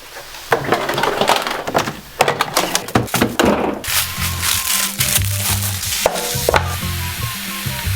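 Meat going into a hot pan for enchiladas, loud close sizzling and frying with clattering knocks of a utensil or pan, busy and irregular, with a faint tone heard under the sizzle.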